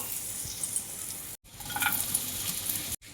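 Cashews and raisins sizzling gently in melted ghee over a low flame for vermicelli payesh, a soft continuous fry with light stirring, cut by two brief silent gaps.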